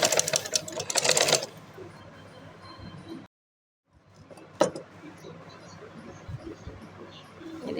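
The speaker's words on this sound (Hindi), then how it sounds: "अब मैं इसकी फिटिंग की सिलाई लगाऊंगी।" A sewing machine stitching fabric pieces together for a side slit and lace design, a fast steady whirring burst that stops, a brief silence, then quiet handling noise and a faint click.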